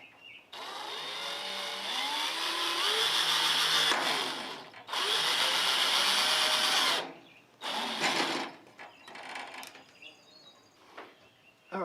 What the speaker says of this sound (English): I'm going to pre-drill a couple of holes, and I'm using a DeWalt 1/8 inch drill bit